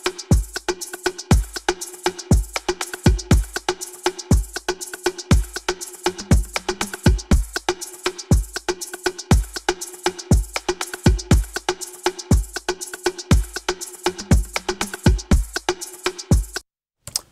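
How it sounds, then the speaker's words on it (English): Drums from a Logic Pro project playing a few bars alone: a steady, sharp, close rhythmic pattern of crisp hits with occasional heavier low thumps, ending abruptly. "I'm just going to play you a few bars of the drums of this project."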